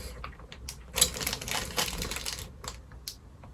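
A plastic baggie of parts from a limited-edition French 25mm anti-tank gun model kit is handled up close, giving quiet crinkling and tapping clicks in short irregular bursts.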